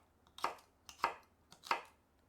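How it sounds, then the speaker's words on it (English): Celery cut into cubes with a knife on a board, three crisp evenly spaced chops, close and clear against a quiet background. "I have here some celery that I'm just going to cut into cubes."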